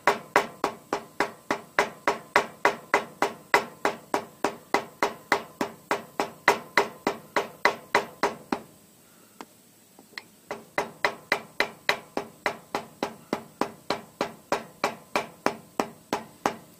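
A hammer taps steadily and evenly on gasket material to cut a carburetor gasket, dozens of light sharp strikes in a quick rhythm, pausing briefly once before resuming at the same pace.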